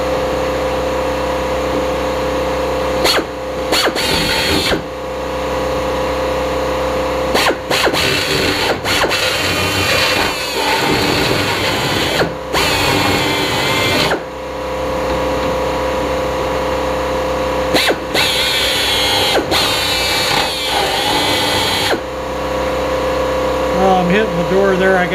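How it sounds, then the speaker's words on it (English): A continuous high-pitched pneumatic air drill whine grinding welds on a 1966 Ford Galaxie 500 convertible, loud and close, with brief pauses and restarts throughout. "this is kind of what I'm using, my air drill with a little bit."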